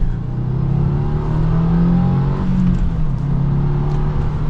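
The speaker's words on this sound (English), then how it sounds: "this Boxer engine still gives you a decent amount of punch, getting up to some speed." A 2024 Subaru WRX TR boxer engine accelerating, heard loud from inside the car as a steady droning growl that rises in pitch and then settles, with road and wind noise beneath and no talking.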